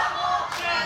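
Wrestling arena crowd at a Rebel vs. Shotzi Blackheart bout, a brief steady roar of cheering voices with a rising swell near the end.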